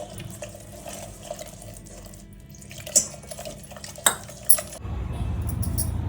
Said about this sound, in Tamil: கொஞ்சமாக தண்ணி ஊற்றி கிளறி வச்சுக்கலாம்.